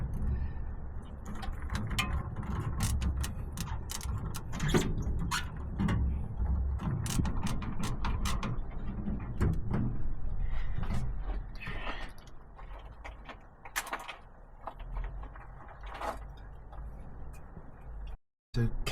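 Hose clamp being tightened on a radiator hose of a 1969 Chevy C20 pickup, with close ratcheting ticks over a steady rumbling background, thinning out toward the end.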